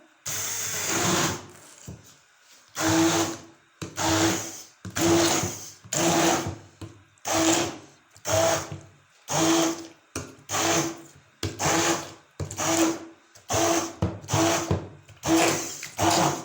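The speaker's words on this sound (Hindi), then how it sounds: "पहले हम इसको ग्राइंड कर लेंगे इस तरह से" An electric grinder chops mustard greens for sarson saag in repeated loud whirring pulses, about a dozen short bursts each roughly a second long with brief silent pauses between them.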